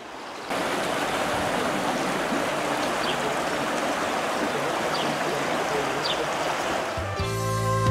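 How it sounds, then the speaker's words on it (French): Steady rushing water of a stream flowing close by through the village of Kaysersberg, Alsace, a continuous broadband wash that starts abruptly and holds at an even level throughout. "Il y a un ruisseau qui file à travers la ville, le village."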